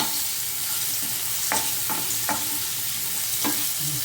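Dry fish curry fries in a pan with a steady low sizzle. Several sharp scrapes and taps from stirring land in quick succession in the middle of the clip.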